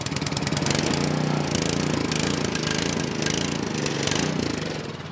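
An Ariens snow blower engine that surges runs cold with the choke applied and seafoam in the fuel, giving a steady, loud, close mechanical drone with rapid rattling pulses throughout.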